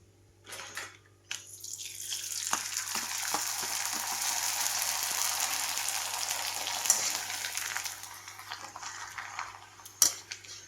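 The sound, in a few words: finger millet and rice papads deep frying in oil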